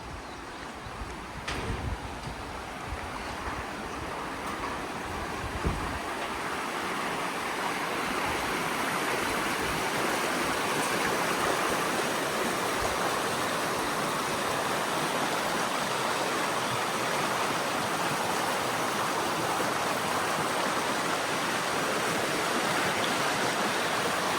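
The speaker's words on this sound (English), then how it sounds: "And that's Little River" Little River, a stream in Cathedral Range State Park, flows in a steady, full rush of water that stays close and constant throughout, with no voices.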